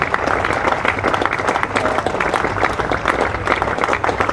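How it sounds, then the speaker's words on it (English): Cricket crowd at a Leicestershire v Glamorgan County Championship match applauding as batsman Ben Mike walks off the field, a steady, dense patter of clapping throughout with crowd murmur. "Ben Mike will acknowledge the applause of the crowd"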